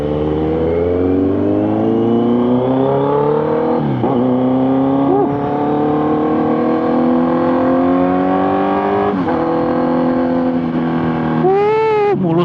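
Kawasaki Z900 motorcycle accelerating on a test ride, its engine note rising steadily through the gears with brief dips at shifts, loud and close, with wind noise underneath.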